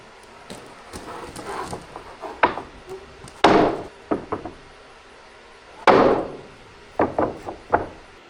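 Freshly sawn walnut boards being stacked outdoors, giving a series of hollow wooden knocks and thumps, a few loud clunks among lighter taps and scrapes, close and irregular with pauses between.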